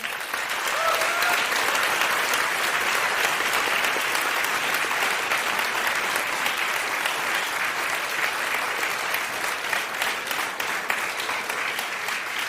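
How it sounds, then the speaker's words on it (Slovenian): Sustained audience applause fills the hall at a Slovenian film festival opening ceremony, dense steady clapping from a large crowd that holds evenly throughout with no talk over it. "lahko jaz dam pobudo za en aplavz"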